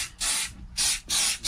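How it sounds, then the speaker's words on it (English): Product sprayed onto a shoe during a resole in a workshop, three loud, close hissing bursts from a spray can, each about half a second long with short gaps between them. "And this, same thing, spray it on nicely."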